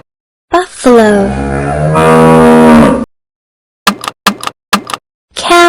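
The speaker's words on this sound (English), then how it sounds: "buffalo," A buffalo lets out a long, loud, harmonic moo lasting a couple of seconds, followed by a series of short separate sound bursts and the start of another call at the end.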